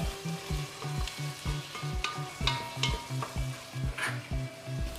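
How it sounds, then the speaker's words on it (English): Carrot pieces stirred in a cooking pot for Spanish lentils with chorizo, a close, continuous sizzle with regular scraping strokes of the spoon and a rhythmic low knocking underneath. "Add the carrots to the pot and stir well."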